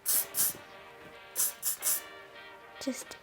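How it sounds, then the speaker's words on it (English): Short hissing bursts of firm-hold hairspray: two quick puffs, a pause, then three more in quick succession, with a faint clatter at the end. "you can just give them a spray of firm hairspray"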